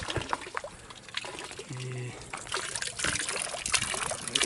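Ice-cold mountain spring water trickling and splashing on a trail near Nevegal and Val Morel, a close, continuous babble that grows slightly louder toward the end, with faint voice-like sounds in the background.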